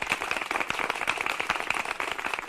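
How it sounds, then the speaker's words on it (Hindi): Children in a classroom clap loudly for a boy named Deepu, a dense, steady burst of applause from a group, continuous with no talking. "दीपू के लिए जोरदार तालियां"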